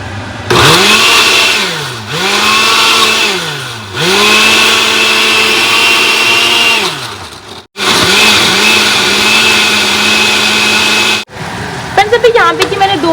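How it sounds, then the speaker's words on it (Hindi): A kitchen blender grinds tomatoes, whole green chillies, spices and yogurt into a chili paste. It runs in loud, close bursts that rise and dip in pitch, with short pauses between pulses, and no talking. "इनको ना ब्लेंडर में ना इनका पेस्ट रेडी कर लेते हैं"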